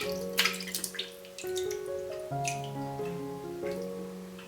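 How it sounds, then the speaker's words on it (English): Beef is rinsed under warm running water in a kitchen: faint splashing and dripping taps, with soft music playing over it. "Rinse the beef in warm water and clean thoroughly."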